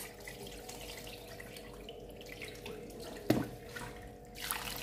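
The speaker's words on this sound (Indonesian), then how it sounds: "Lalu saya rendam dengan air secukupnya atau hingga menutupi permukaan beras." Water poured over black glutinous rice to soak, a soft running stream into a bowl with a brief splash near the end, quiet and close.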